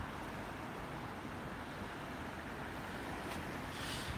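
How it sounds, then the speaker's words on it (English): Fast-flowing river water in Paris at night, a steady broad rushing wash with a windy, blustery edge, continuous and fairly close throughout. "Unbelievable how fast the water flows."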